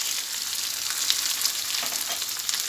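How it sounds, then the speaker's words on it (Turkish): Rice for a chickpea pilaf toasts in a pot, giving a steady, close sizzling hiss with faint scrapes of stirring throughout and no voices. "Ve pilavımızı çok iyi kavuracağız."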